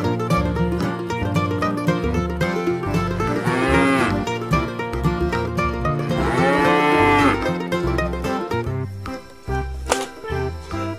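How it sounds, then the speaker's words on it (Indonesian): A cartoon cow moos twice in long, rising and falling calls over loud, busy children's music, amid a dinosaur-themed animated sequence. "Ini sapi."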